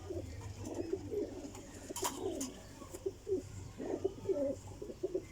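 Pigeons coo in repeated low, throaty phrases at close range, several birds overlapping in a steady rhythm with a faint hum beneath.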